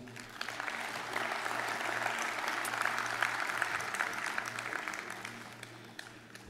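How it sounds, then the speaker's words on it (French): Warm applause from an audience at a public talk, many hands clapping in a sustained, even wash that builds, holds and tapers slightly at the end, with a low steady hum beneath. "je vous demande de l'applaudir chaleureusement"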